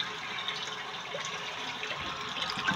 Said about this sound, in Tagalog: Kuha tayo ulit ng pagdagdag na tubig.